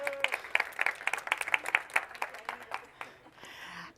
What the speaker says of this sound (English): Big applause to Laura.